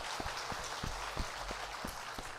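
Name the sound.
applause in church service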